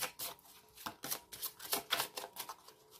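Tarot cards drawn and handled for a reading: soft, quick papery slides and flicks in an irregular rhythm, close and quiet, with no voice.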